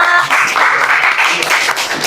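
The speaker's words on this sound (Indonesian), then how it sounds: "tepuk tangan dulu dong untuk kelompok 5" A high school economics class claps for a student group, giving a short, close burst of lively hand clapping from a roomful of students.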